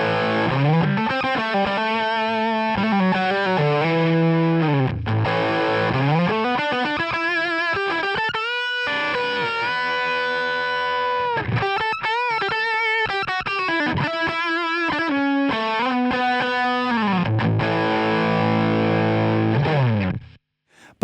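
Heavily distorted electric guitar through a Friedman Buxom Betty amp plugin, with the power soak turned down, plays sustained chords and riffs continuously and loudly for about twenty seconds before cutting off abruptly.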